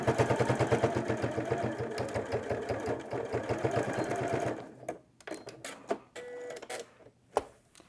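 A sewing machine stitches bias binding onto a fabric toilet-paper holder, a rapid steady mechanical chatter up close that stops after about four and a half seconds, followed by scattered handling clicks and rustles.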